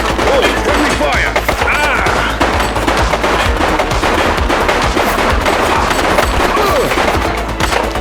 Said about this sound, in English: She's shooting! Oh, friendly fire!